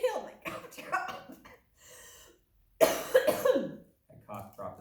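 A person coughs hard in several rough bursts after inhaling a cough drop, with sputtering and throat clearing between them, close to the mic.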